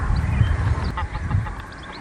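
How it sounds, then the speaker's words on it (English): A greylag goose calls aggressively in short, harsh honking bursts, recorded up close over a steady low background rumble at Titchwell. "I don't know what had upset this grey-lag goose, but whatever it was chased off quite aggressively"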